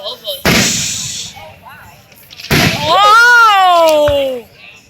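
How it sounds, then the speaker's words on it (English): Fireworks burst directly overhead at close range: two loud booming explosions with crackling trails, while people shout and exclaim over them. "we were almost literally under a firework"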